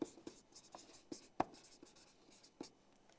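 Pen writing on paper during an English grammar lesson, a series of short scratchy strokes and taps spaced irregularly, close and fairly quiet, with no talking.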